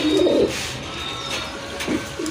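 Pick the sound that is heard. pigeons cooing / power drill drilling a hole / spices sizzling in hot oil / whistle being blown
pigeons cooing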